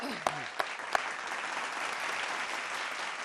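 Loud audience applause at a Hindi comedy contest show, a few sharp claps at the start and then a dense, steady wash of clapping that fills the whole stretch.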